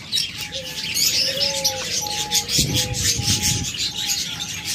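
Large birds kept for sale in pairs call repeatedly with short chirps and soft coos over a steady background of rustling noise.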